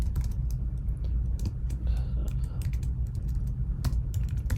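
Quick, uneven typing on a computer keyboard, with sharp key clicks in bursts over a low steady hum, close and clear, and nobody speaking.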